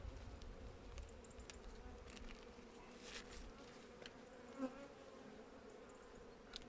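Faint, steady buzzing of many honeybees around a beehive during a November hive inspection fills the air, with a few louder insects zipping close by now and then.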